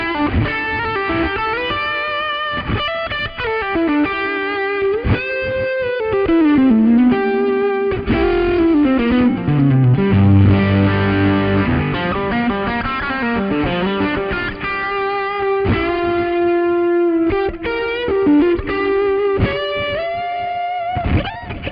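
Electric guitar through a Marshall amp with delay and some distortion, a continuous melodic line of picked notes and bends with echoing repeats trailing each phrase, loud and alone for over twenty seconds.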